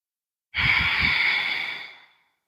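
A single long, deep exhale during yoga breathing, close and soft, rushing out for about a second and a half before tapering into quiet.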